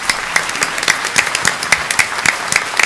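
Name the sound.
applause for village staff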